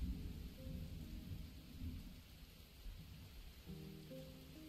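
Steady rain ambience with low rumbling thunder from the Rainy Day setting in the game Spirit City: Lofi Sessions, soft and continuous with faint musical tones underneath.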